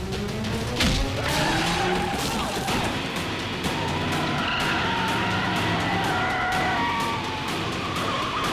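A car skids hard to a stop in an action film scene, with a loud, sustained tire squeal and engine noise layered over dramatic sound effects.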